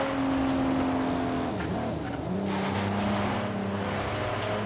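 Porsche Macan engine in the racing game Forza Horizon 3, a continuous loud engine note that drops as it shifts gears and then climbs again, with tire noise and no talking.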